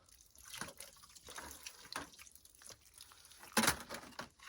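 Water runs through a newly installed bathroom drain, heard as faint, intermittent trickles and drips with one louder gush near the end.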